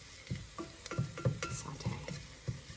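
Garlic gently sautéing for an Italian sauce starter while being stirred in a pan, a soft sizzle under repeated scraping and stirring strokes, close and fairly quiet, with no talk.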